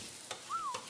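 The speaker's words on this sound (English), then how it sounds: "Look at that sizzle." A hot Jersey Mike's sub sizzles and fries on a grill, giving a steady close hiss with a couple of brief bursts and a thin whistling tone over it. No one speaks.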